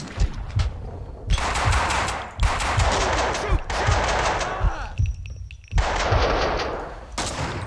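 Bursts of automatic gunfire from the video game Max Payne 2, several loud sustained volleys separated by short gaps, with faint talk underneath.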